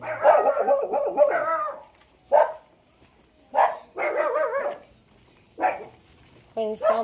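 Dogs bark in repeated bursts on a Manila street, sharp yips and barks coming close and fairly loud, separated by short pauses, with voices mixed in.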